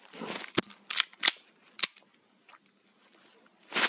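A gun fires several sharp, close shots in quick irregular bursts, with brief quiet gaps between them and a final shot at the end.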